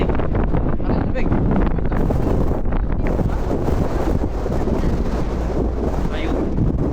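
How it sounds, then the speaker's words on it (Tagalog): Cold wind blows hard through a canyon in Kazakhstan, a loud, constant roaring buffet against the microphone, with people talking underneath. "pag dumadabi yung hangin sa ano mo, sa mukha mo, parang sinasampal"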